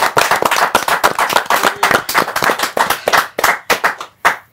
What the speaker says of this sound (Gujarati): ખૂબ બધી તાળીઓ સાથે આ ધરખમ ટેલેન્ટેડ કલાકારોનું સ્વાગત કરે